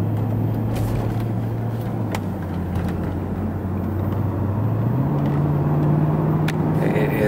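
A 2009 Mercedes-Benz S63 AMG W221 drives along steadily, its low engine drone holding for a while, then rising a step in pitch as it pulls harder, heard from inside without talk.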